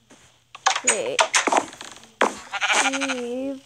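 A sheep bleats close by in a farm setting, a wavering cry near the end that follows a stretch of loud, animated talking and shouting.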